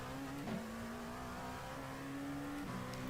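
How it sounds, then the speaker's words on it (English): A race car in a racing video game holds a steady high-RPM engine drone with a sustained tonal whine at constant pitch and faint tire noise beneath, moderately quiet and unbroken, with no voices. "I'm just gonna run really high revs for a bit and see what happens."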